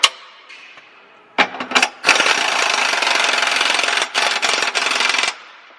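Pneumatic impact wrench with a swivel socket tightening 24mm subframe bolts on an S550 Mustang during a BMR subframe brace install, heard as loud sustained hammering bursts with brief pauses between them, close up with no talking.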